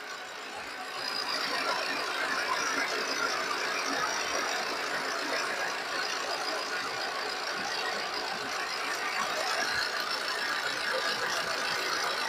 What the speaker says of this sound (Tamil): இன்ஜின் நாய்ஸ் பாருங்க பெட்ரோல் வண்டி இன்ஜின் நாய்ஸ் மாதிரி இருக்கு பாருங்க